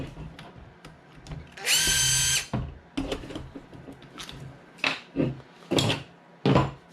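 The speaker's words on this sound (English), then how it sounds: "this is a hammer drill" A cordless hammer drill whirs in a short loud burst amid clunks and handling noises, with brief bursts of rattling and scraping nearby.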